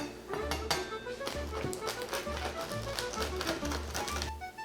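Knife cutting through homemade focaccia bread, a quick series of crunchy crust taps and saws with a low repeating thud beneath, close and steady.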